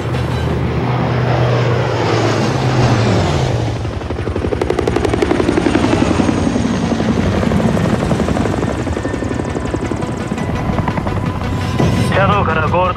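Military aircraft in Call of Duty: Modern Warfare III taxiing and taking off, a loud steady propeller and engine roar that swells as it builds speed, with radio voices talking over it.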